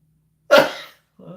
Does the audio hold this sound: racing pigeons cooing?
no